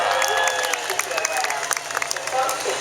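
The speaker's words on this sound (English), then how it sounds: "let's give our first winner out there a nice round of applause" Crowd applause and some cheering for the winner of a pig race at the Florida State Fair, steady and fairly loud, with an announcer's voice or crowd chatter mixed underneath.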